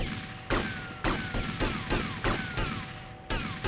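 Gunfire in GTA Vice City: seven sharp shots spaced roughly half a second apart, each with a fading ring, over a steady game hum with no talking.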